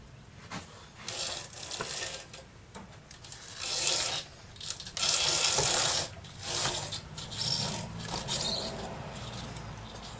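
Wood lathe turning a sea grape wood vase at about 340 RPM, a steady scraping, rasping cut that swells and fades as the tool is pressed into the spinning wood.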